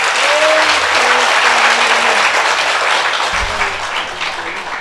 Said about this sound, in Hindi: हम सब के बीच में तालियां तो जोर से बजाओ।